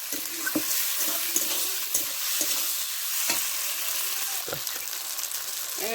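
Garlic and spices sizzle in hot oil for a chicken curry, a steady close frying hiss broken by repeated scraping stirs.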